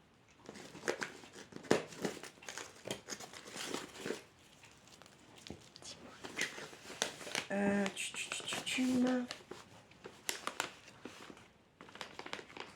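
Crinkly bubble-wrap-like paper being crumpled and handled in bursts of crackling and rustling, with brief pauses between handfuls.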